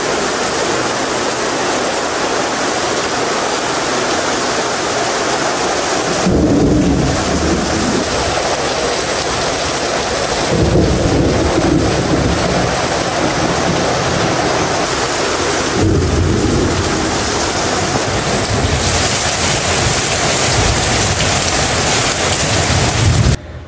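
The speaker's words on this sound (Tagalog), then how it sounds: "Bigla po bumuhos ang malakas na ulan." Heavy rain pours steadily in a dense, constant roar, with low rumbles of thunder rolling in at intervals.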